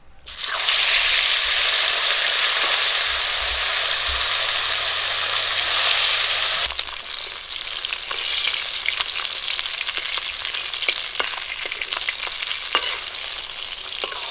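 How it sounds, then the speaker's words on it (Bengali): River bata fish frying in oil with a loud, dense sizzle, then a lighter bubbling crackle and occasional spatula scrapes, heard up close with no talking. "বাকি মাছগুলো একই রকম করে ভেজে নেবো"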